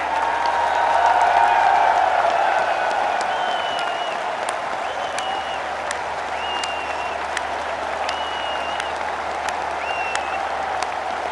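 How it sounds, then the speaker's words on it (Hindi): A large crowd in the Dubai Cricket Stadium breaks into sustained applause for a visiting crown prince, a dense, steady roar of clapping that stays loud throughout, with faint whistles rising above it. "तालियों की गूंज से क्राउन प्रिंस का अभिनंदन कीजिए।"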